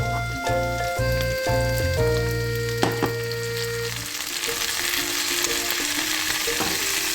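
Carrots, chili and zucchini stir-fry in a hot pan, crackling and sizzling steadily close up, with scraping stirs breaking the sizzle early on before it settles into a softer continuous fry.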